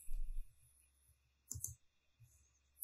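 A computer mouse clicks a few times while a user works in Exocad dental design software, sharp isolated clicks with quiet gaps between them, close and fairly faint, with no talk.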